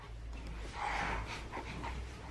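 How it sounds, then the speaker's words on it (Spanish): A dog snoring close by, soft rhythmic breathy rasps that swell and fade over a couple of seconds, with no one talking. "Mirad cómo está roncando Alma"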